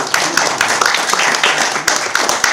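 A church congregation claps together in a dense, lively burst of applause with sharp individual hand claps, close and loud, lasting a couple of seconds.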